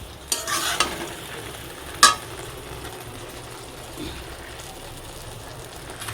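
Melting jaggery stirred in a pan over low heat, with quiet continuous scraping and soft sizzling, broken by a few sharp clinks of the utensil against the pan.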